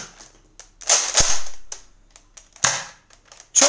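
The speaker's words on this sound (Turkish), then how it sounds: "İleri itiyoruz. Atış yapabiliyoruz." Nerf Modulus Mediator toy blaster fires several sharp, snappy shots at close range, with loud pops near the start, middle and end and small mechanical clicks between them.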